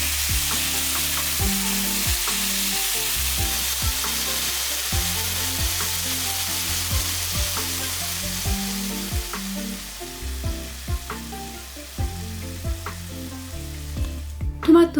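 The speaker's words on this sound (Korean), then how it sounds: "한 번씩 뒤적여주면서 색이 나도록 볶아주세요." Cherry tomatoes stir-frying in hot oil, a steady close sizzle with repeated knocks and scrapes as they are turned in the pan, no voices.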